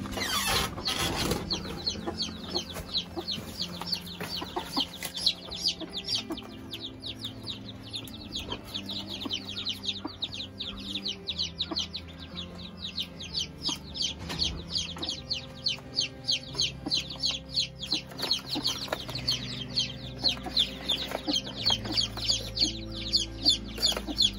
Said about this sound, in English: slowly fostering the chicks onto the mummy chicken